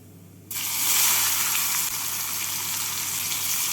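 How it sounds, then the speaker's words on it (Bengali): Chopped onion drops into hot oil seasoned with cumin, cinnamon and cardamom, instantly erupting into a loud, close, continuous sizzle that holds steady to the end. "পেঁয়াজটাকে লাল করে ভেজে নেব"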